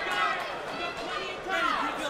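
An arena crowd at a CES Proving Grounds MMA cage fight chants for local fighter Andre Soukhamthath, the massed voices swelling and falling in waves beneath a commentator talking.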